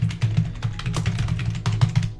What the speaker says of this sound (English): let's start by typing in a job title